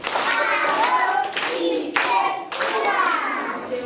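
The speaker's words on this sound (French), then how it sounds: "Applaudissez pour lui." Applause from a congregation of students and families at a thanksgiving Mass, steady and dense for about four seconds, with excited young voices rising over the clapping.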